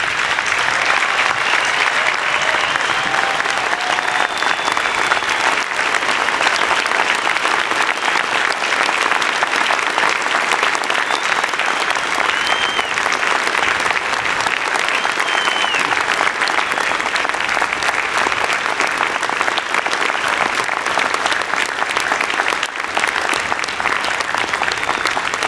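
A stadium crowd of more than 30,000 at a university commencement applauds the graduates, a loud, sustained, even wash of clapping that carries on without a break and with no voices on top.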